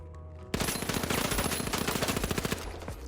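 A rifle fires a fast, sustained burst in the video game THE FINALS, a loud rattle of closely packed shots that starts abruptly and runs for about two seconds before stopping.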